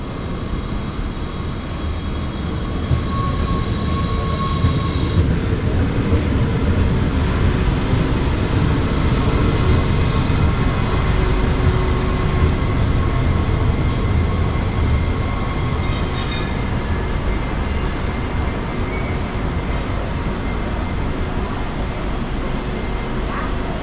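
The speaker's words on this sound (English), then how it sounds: "now we can take a look at the arrival of this train" A Sprinter light train (SLT) pulls into Utrecht Centraal, rumbling loud and close with steady rolling wheel noise, a few faint squeals and whines rising over the din.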